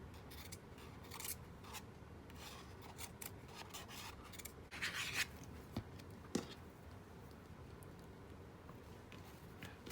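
Scissors snipping through a piece of paper for a craft collage, quiet close crisp cuts at a steady pace, with a couple of sharper snips standing out partway through.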